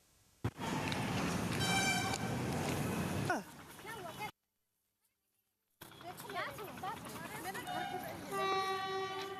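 A passenger train approaches with loud rumbling and repeated horn blasts, voices mixed in over it; the sound cuts to silence for a moment, then the train noise and horn return.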